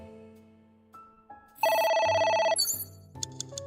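A telephone rings in the video game AI: The Somnium Files, a loud electronic ring with bright harmonic tones arriving after quieter musical notes, followed by brief chiming blips.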